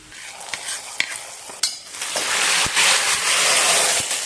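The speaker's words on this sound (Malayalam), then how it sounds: "ഉള്ളി മുളകൊക്കെ മൂത്ത് വന്നിട്ടുണ്ട്. ഇത് നമുക്ക് കറിയിലേക്ക് ചേർക്കാം." Fried dried chillies, shallots and curry leaves tipped into a simmering curry give a sudden clatter, then a loud, steady sizzle that swells and holds close by with no talking.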